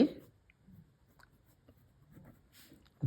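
Faint scratching of numbers being written by hand for a Class 6 maths lesson, with light, intermittent strokes in a quiet room and a voice briefly heard at the start and end.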